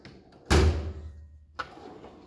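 A metal tool box drawer slides open with one loud rolling thunk, followed by a quieter clack a second later, with no talking.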